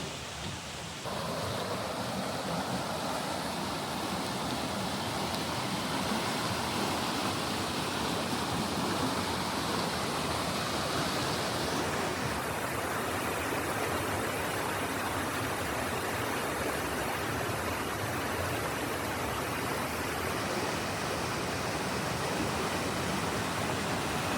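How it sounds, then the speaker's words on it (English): Water pours steadily into a drained canal lock, a continuous broadband rushing roar like a weir or waterfall, close and loud, holding unchanged for the whole stretch with no voices over it. "they're letting more water in."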